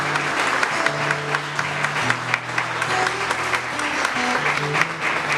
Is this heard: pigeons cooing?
no